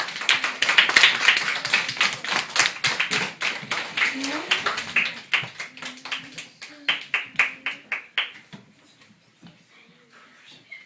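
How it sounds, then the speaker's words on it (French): A small group claps for several seconds, dense at first and then thinning into scattered claps that fade out, with voices murmuring underneath. "On peut l'applaudir."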